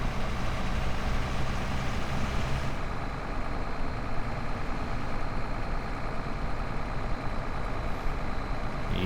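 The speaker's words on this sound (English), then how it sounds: "This engine's quite noisy" A truck engine in Euro Truck Simulator 2 drones steadily and loudly from the cab, a continuous low rumble with no talk.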